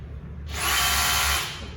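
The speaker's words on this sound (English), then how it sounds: "And the drill bit goes back and forth, as you can see. That's the hammer function." A power drill in hammer mode, bit pounding back and forth, whirs up suddenly and runs loud and steady for about a second before winding down, close by with no talk.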